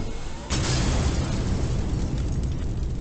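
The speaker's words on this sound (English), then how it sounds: "That's a grenade." A grenade blast in the Haunted Hotel 8 video game, a sudden loud burst that swells into a dense, sustained roar lasting several seconds with no voices over it.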